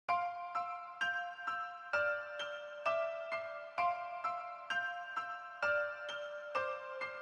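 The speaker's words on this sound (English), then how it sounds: "I'm going to press alt Y to just reverse the melody so it'll sound like this" A reversed synth melody played back in FL Studio: a steady run of bright, bell-like notes, roughly two per second, looping evenly for several seconds at moderate volume with no voices.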